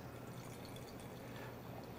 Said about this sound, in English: When we're pouring wine